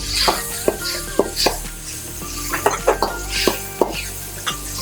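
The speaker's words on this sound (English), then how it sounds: "Add your ginger. And saute till fragrant." Ginger stirred and sautéing in oil in a pan for a pan-Asian sauce, with a steady sizzle under repeated sharp clinks and scrapes of a utensil against the pan.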